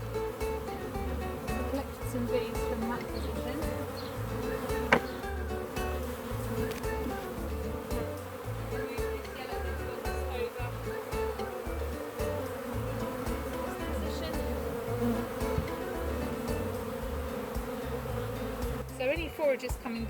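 Dense, steady buzzing of many honey bees around a hive close by, continuous throughout with a low droning hum beneath; no talking.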